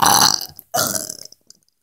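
Two loud, close burps during a burping challenge, the first long and guttural and the second following after a short pause, trailing off into small sounds.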